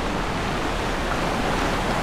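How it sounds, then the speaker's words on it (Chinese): Sea waves of the Baltic and North Sea meeting and crashing together at a Danish point, heard as a dense, continuous surf roar with wind, loud and steady throughout. "东海和北海的这个两股海浪在这边撞击在一起"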